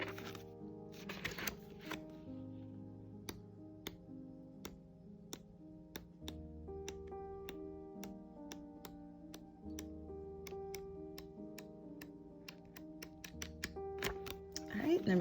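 Pages of a paper pad flipped quickly in succession, producing a rapid series of crisp, close ticking flutters, the pace quickening toward the end.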